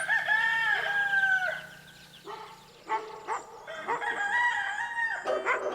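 At a chicken sanctuary in Princess Anne, Maryland, a rooster crows loudly in drawn-out calls near and far while hens cluck in a busy chorus, with a dog barking among them.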